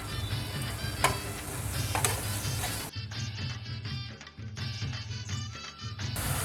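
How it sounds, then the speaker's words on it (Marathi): Spice paste for stuffed pomfret, a Koli-style seafood dish, fries and is stirred in oil in a pan. A steady, close sizzle runs under scraping stir strokes, briefly thinning midway before continuing, with no talking. "आता आपण परतताना चवीपुरता मीठ घालतोय."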